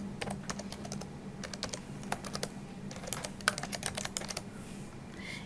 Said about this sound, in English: So I'm going to go ahead and log in with my username.